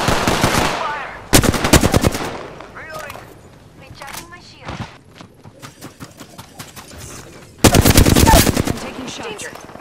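Rapid bursts of automatic gunfire in the video game Apex Legends, loud and close, with a long burst at the start and another near the end, scattered single shots between, and game voice callouts over the action.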